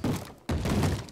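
Heavy hollow thuds of zombies banging on wooden doors in Minecraft, two dull blows close together, loud and near, each with a muffled booming body.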